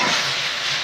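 Red lentils tipped into a pan of hot oil with fried garlic and green chilies, setting off a loud, steady, close sizzling hiss with no voices.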